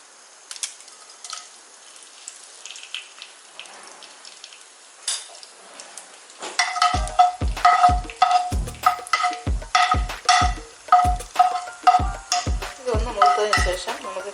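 Urad dal and dried red chillies fry in a pan, with a soft sizzle at first, then a series of regular scraping stirs and metallic clinks against the pan.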